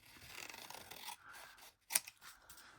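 Scissors snip through book-page paper in quiet, close strokes, with a rasping run of cuts followed by a sharper single snip and a softer rustle.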